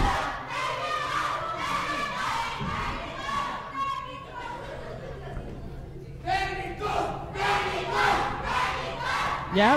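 A wrestling show crowd in a gymnasium roars a battle cry, with loud rising chants and shouts in waves, surging again near the end over a constant murmur of chatter.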